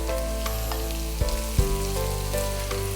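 Onions added to masala for a Kerala-style chicken masala fry, cooking in a Milkymist Magic Oven with a loud steady frying hiss and a few brief knocks of a stirring utensil, no talk.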